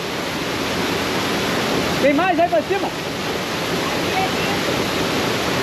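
A steady, loud rush of water from a waterfall pouring into a pool in Portugal fills the whole stretch, with a brief spoken question partway through.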